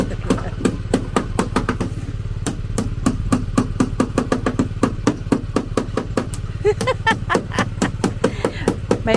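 Rhythmic hammer blows ring out on a farm, dozens of sharp evenly spaced strikes close by over a low engine rumble, with voices talking in between.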